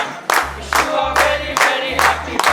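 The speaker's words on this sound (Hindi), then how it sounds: "बारबेक्यू इंडस्ट्री आपके लिए लेके आएगा एक स्पेशल केक और साथ में बजाएगा तालियां" Restaurant staff at The BarBeQue Industry clapping together for a celebration, a few loud rhythmic rounds of claps close by, with a low hum and faint voices underneath.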